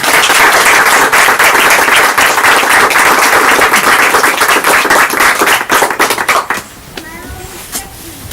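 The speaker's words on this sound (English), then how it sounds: "can we give a round of applause in absentia for them?" A crowd at an outdoor annual meeting and award picnic gives a loud, dense round of applause that fades out after about six seconds, leaving faint voices and someone speaking.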